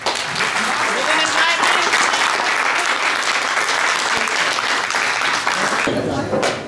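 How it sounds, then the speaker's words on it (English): An audience at a gubernatorial debate in a Santa Monica library applauds the candidates, a dense, sustained clapping that holds steady for several seconds before easing off near the end. "I ask that you give them a round of applause"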